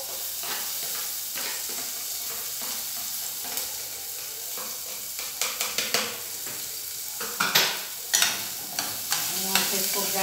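Chopped onion softening in a pan with a little basil, a continuous sizzle that grows busier with repeated sharp stirring clacks toward the end, no speech.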